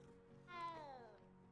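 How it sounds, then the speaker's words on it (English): A cat in the Hogwarts Legacy video game gives a single short, fairly faint meow over a low background hum. "It's a well cool cat."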